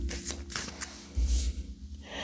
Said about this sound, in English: We're just going to grab some cards here.